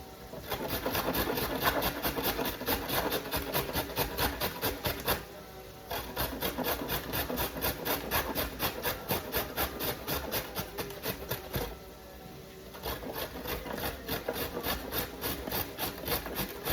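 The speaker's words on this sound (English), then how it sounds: "So I'm just gonna grate this." Food, apparently a carrot, is rubbed back and forth on a hand grater for a Japanese beef bowl. Steady, rhythmic rasping strokes sound close and loud, pausing briefly twice, with no one speaking.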